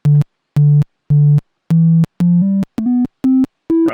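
Voltage controlled oscillator in VCV Rack modular synthesizer software sounding a series of clean, loud tone bursts, first three repeated low notes, then shorter notes stepping upward in pitch, separated by silences.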